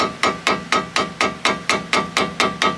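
Steady metal hammer blows bending down a locking tab so a vehicle axle nut stays on, about eleven evenly spaced sharp strikes, close and loud with a short ring after each.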